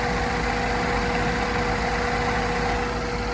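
2011 Chevy Equinox engine idling with its MAP sensor disconnected: a steady, loud, even hum with a constant low drone and faint steady whine throughout, close by and without talk.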